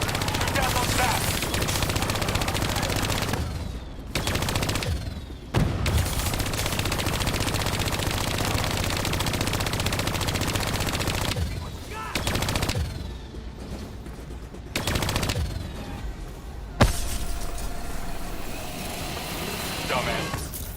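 Rapid automatic gunfire downing bats in the video game Call of Duty Black Ops 3, long loud sustained bursts broken by short pauses, with a voice speaking over the shooting.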